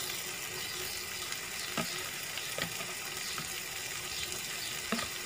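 Tomato and onion masala frying in a pot for stuffed karela with beef keema, a constant hissing sizzle with a few soft knocks as the pot is shaken, no voices.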